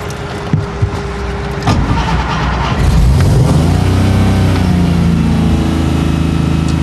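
A 1957 300SL Gullwing engine cranks, catches and rumbles into a loud, uneven idle close by, with clanks and rattles as it starts.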